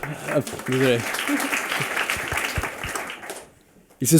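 At an evening gathering, an audience breaks into applause, the clapping mixed with voices, then thinning and fading to near quiet before a voice speaks again.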